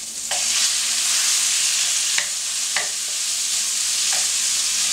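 Shrimp fry with garlic and ginger in a stir-fry pan over medium heat, a steady bright sizzle that flares as the shrimp go in, punctuated by a few sharp utensil clicks, no voices.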